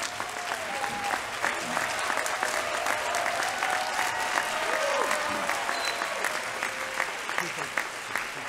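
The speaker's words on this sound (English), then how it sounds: "Let's give this another round of applause." A crowd at a fall convocation gives sustained applause, a dense, even clatter of many hands, with scattered voices and a few calls mixed through it.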